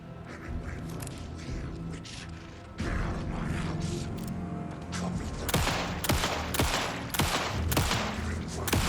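Gunfire in the video game Alan Wake 2: sharp shots crack out one after another, irregular at first and then a denser, louder volley in the second half, over mechanical clanks and a low ambient drone.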